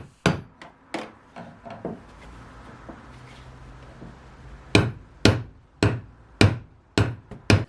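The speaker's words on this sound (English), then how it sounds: "I'm gently tapping it with a hammer and a screwdriver" Sharp, close metallic taps ring out in irregular bursts, a cluster at the start, a quiet pause, then several evenly spaced strikes, as a hammer gently taps a screwdriver against a plastic ring on a Volvo.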